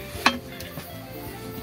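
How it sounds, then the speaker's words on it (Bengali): Pitha dumplings stir in boiling milk and jaggery in a pot, with one sharp utensil clank against the side over a low, soft bubbling simmer. Brief and fairly quiet, with no talking. "নাড়াচাড়া, ভালো করে নাড়তে হবে যাতে নিচে না লাগে"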